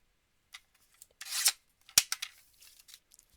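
Scissors snip through journaling card paper in a few short, crisp cuts with rustling between them, close and fairly quiet.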